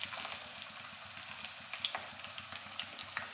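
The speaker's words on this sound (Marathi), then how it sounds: "टोमॅटो फ्राय करून घेऊया।" Onion and tomato fry in a pan, a steady close sizzle with faint stirring scrapes and occasional small pops, no talking.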